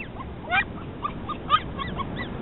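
Several dogs of mixed breeds on a beach, giving a few short whimpers and yips at a moderate distance over a steady wash of background noise.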